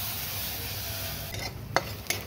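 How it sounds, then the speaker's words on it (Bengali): Crushed spices fry with a soft, steady sizzle in a pan while masala tea is made, followed by a few sharp stirring clinks of a spoon against the pan. "এই থেতো করা মশলাটা আমি দিয়ে দিব,"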